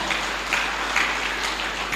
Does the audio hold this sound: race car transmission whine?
no